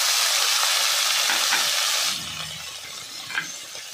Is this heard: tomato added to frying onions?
yes